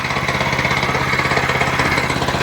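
A Mast 90 kg vibratory plate compactor's petrol engine runs steadily while warming up, a loud, close, even mechanical drone with a fast rattling pulse.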